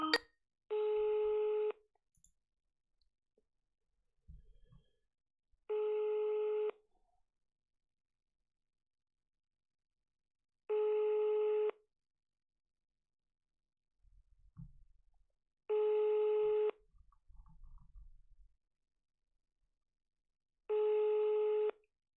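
A telephone call to a bailiff's office rings out: five evenly spaced electronic ring tones, each about a second long and about five seconds apart, with faint handling rustles and murmurs between them.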